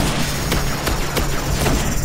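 Grenade blast in Destiny Crucible multiplayer, a dense burst of booming thuds and gunfire crackle layered over continuous game noise, loud and close.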